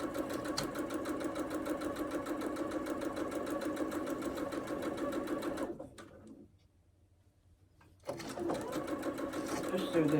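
A sewing machine stitches quilt strips with a steady, close, rapid mechanical whir that stops for about two seconds and then starts again.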